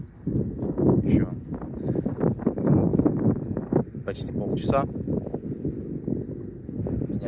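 Wind gusting over a river during sunset paddleboarding, a steady rough rumble of wind noise on the microphone running the whole way under continuous close talk.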